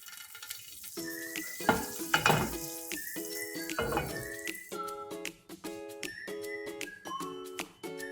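Bread fries in butter for French toast, giving a faint sizzle with a couple of stirring or scraping bursts, while tinkling melodic notes play throughout.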